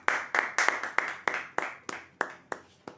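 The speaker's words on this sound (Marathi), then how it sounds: "जोरदार टाळ्या होत्या यांच्यासाठी." Audience claps for a winner at a weekly prize draw, heard as nine or ten separate sharp bursts of clapping, each fading quickly, spaced at a steady uneven rhythm, fairly close and with no talk.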